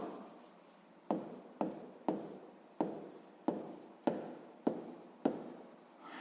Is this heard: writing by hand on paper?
yes